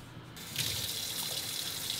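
Tap water runs steadily into a cooking pot for rice, starting after a brief quiet moment and continuing as a close, even rush with no talking.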